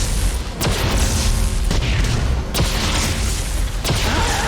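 Heavy booming gunshots from the sci-fi horror video game Dead Space 3 fire at irregular intervals, roughly four sharp blasts over dense, loud game noise.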